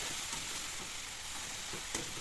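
Fenugreek leaf vegetable mixed with peanut powder fries in a pan as it is stirred up from the bottom, giving a steady, close sizzle with one brief clink near the end.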